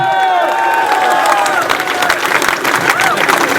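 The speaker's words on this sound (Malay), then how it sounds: "Beri tepukan." Crowd at a night-time political rally in Melaka applauds and cheers loudly, with scattered voices and whistles mixed into the steady clapping.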